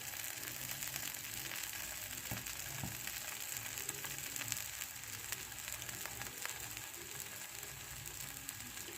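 Urad dal batter attu cooking on a hot pan over high heat, a faint steady sizzle and crackle with small ticking pops throughout, no talking.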